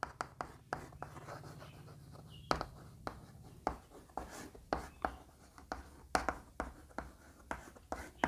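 Chalk or marker strokes on a classroom board come in a quick irregular series of short taps and scratches, fairly faint and close, with a soft low hum beneath.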